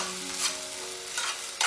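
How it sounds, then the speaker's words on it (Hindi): Spices and tomatoes fry in a pan for palak paneer, a soft sizzle under a few brief scraping stirs, close and moderately quiet, with no voices. "ये देखिए बहुत अच्छे से भुन गए हैं मसाले।"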